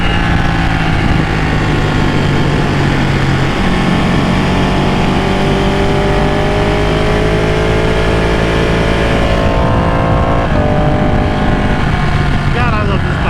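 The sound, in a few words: Ducati 899 sport motorcycle engine while riding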